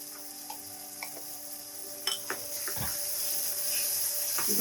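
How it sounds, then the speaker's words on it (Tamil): Onion and tomato sautéing in a pan for a green potato curry, with a soft steady sizzle and a few light stirring taps, close and fairly quiet. "வெங்காயம் தக்காளி இந்த மாதிரி வதங்கிட்டு இருக்கும் போது"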